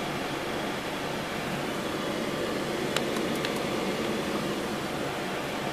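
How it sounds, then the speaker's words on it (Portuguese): An air conditioner runs with a steady broadband whoosh and low hum, constant throughout, with a few faint high clicks partway through. "O barulhinho aí do ar-condicionado"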